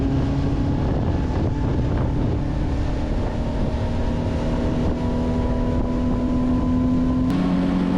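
Loud, constant wind rumble buffets the microphone throughout on a saltwater island, over a steady low motor drone with a slight pitch shift near the end.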